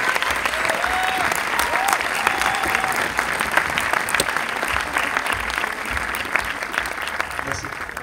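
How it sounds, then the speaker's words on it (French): An audience at a film premiere applauds the cast, dense sustained clapping from a large crowd filling the room at steady loudness throughout. "je voudrais qu'on applaudisse les acteurs du film."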